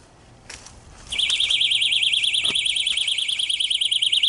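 A tripwire perimeter alarm goes off with a shrill, warbling electronic tone that starts abruptly after a few faint knocks and keeps sounding continuously and loudly.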